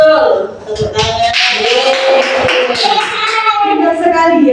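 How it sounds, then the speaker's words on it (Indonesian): Schoolchildren in a third-grade classroom clap their hands together in a loud, sustained burst of applause, with children's voices chattering over the clapping throughout. "Tepuk tangan."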